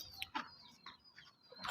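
A hen clucks in a backyard bird pen in the morning: short, scattered throaty clucks and brief higher calls spaced irregularly, close and fairly clear, with no talking over them.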